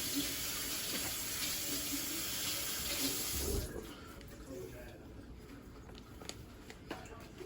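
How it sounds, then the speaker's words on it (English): Running tap water pours steadily into a sink as hands are washed, loud and close for several seconds, then the flow drops to a softer trickle with small splashes. "let me wash my hands real quick"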